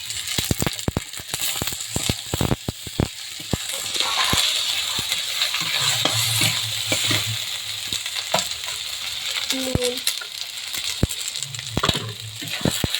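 Ginger paste and chopped tomatoes fry in a pan for biryani, a steady close sizzle with repeated sharp clinks and scrapes of a stirring spoon against the pan, no talk.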